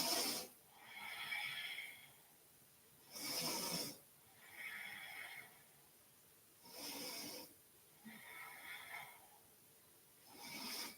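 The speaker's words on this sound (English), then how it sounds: "And we breathe here for 5." Slow, audible breathing held through a yoga pose, alternating long airy inhales and exhales in a steady rhythm, close and soft with a raspy, hissing texture.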